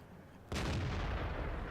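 A single tank gun shot from an FV4202 in World of Tanks lands with a sudden heavy boom, followed by a rumbling tail that carries on to the end.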